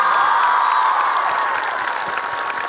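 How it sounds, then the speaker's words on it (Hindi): A large audience claps and cheers in one sustained, dense wash that stays loud and steady throughout, with crowd voices mixed into the ovation. "मैं एक बार जोड़कर मेरे पिता के लिए तालियां बजाना चाहूंगा दोस्तों"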